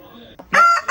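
A rooster lets out a brief, close, loud crow that lasts under a second and follows a faint bit of background sound.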